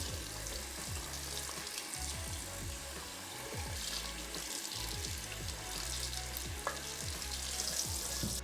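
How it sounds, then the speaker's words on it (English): Water from a running tap pours steadily onto a water-resistant beanie hat, a continuous splashing hiss with close, uneven spatter and no voices. "you can see how all the water comes off really easily when you guys do put water on here"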